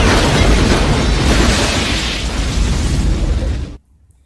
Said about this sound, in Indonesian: ledakan akibat senjata alien tersebut terus menyebar dan menghancurkan apa saja yang dilaluinya